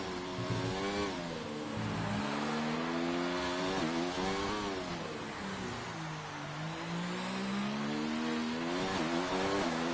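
A race car engine in a sim racing game drives a hot lap around Abu Dhabi, a loud, constant engine drone that rises and falls in pitch through shifts and corners.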